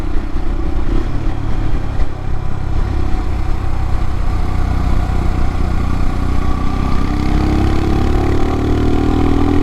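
A 2022 Royal Enfield Himalayan with a Hitchcocks carburetor conversion rides along a toll road freeway, its single-cylinder engine droning steadily and loudly with constant wind rush, rising slightly in pitch toward the end.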